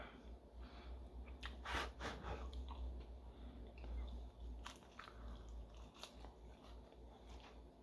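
Air-fried apple crisps being bitten and chewed close up, with repeated crunchy bites and soft mastication running through the stretch, alone without talk.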